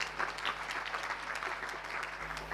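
Applause from an audience at an Islamic boarding school gathering, a steady dense patter of many hands clapping for about two and a half seconds with no voices over it.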